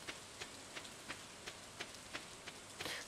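Rain in Stardew Valley falling by a river, a soft steady patter with a regular series of brief droplet ticks roughly every third of a second, faint and alone.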